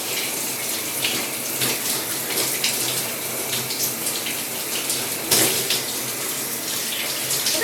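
A tap runs water onto curly hair to soak it, giving a steady close hiss and splash that continues without a break.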